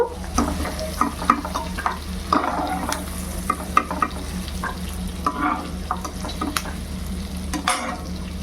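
Prawns and onions frying in darkened oil, stirred with a utensil: irregular close scrapes and clinks over a continuous sizzle, with a low steady hum beneath and no talk.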